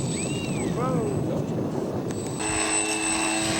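A radio-controlled scale model airplane taxies on the ground with a steady, buzzing engine drone, close and loud, its pitch sweeping briefly as it moves past, under constant noise.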